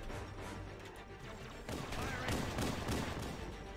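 Gunfire in the Halo CE game, a dense rattle of rapid shots and bursts that grows heavier halfway through, loud and continuous with no clear pauses.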